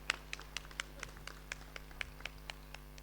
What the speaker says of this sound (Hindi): जोरदार ताली बजाएंगे इनके लिए